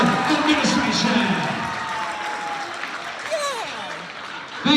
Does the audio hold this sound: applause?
yes